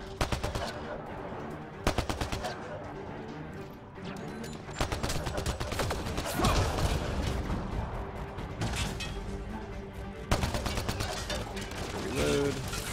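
Repeated bursts of automatic gunfire rattle through a firefight in Mass Effect: Andromeda, the rapid volleys arriving in clusters with short lulls between them, over game sounds and someone talking.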